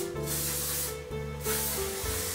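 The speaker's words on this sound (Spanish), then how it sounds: "el spray final, que es el spray fijador" A TRESemmé hair setting spray is sprayed in several close, loud hissing bursts with brief gaps between them, used as the final fixing step on wavy hair, with no talk.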